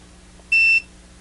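ToolTop ET829 scopemeter giving a single short, clean electronic beep as it powers on, close and isolated against a quiet background.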